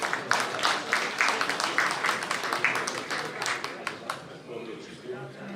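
An audience at a mushaira, a poetry gathering, applauds with a warm wash of clapping that rises in bursts and gradually thins out, while a host speaks over it.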